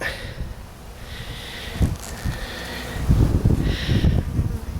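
Honeybees buzz close by in a hive in a steady drone that swells and fades in waves, with some soft rustling and snuffling noises mixed in.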